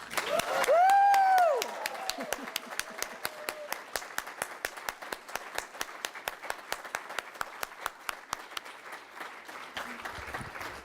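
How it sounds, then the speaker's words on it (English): A church congregation applauds steadily at a moderate distance, a quick bright whoop rising briefly over the clapping near the start before the applause continues alone and gradually thins. "I would like us all now to stand up and give a rousing cheer for our great gift"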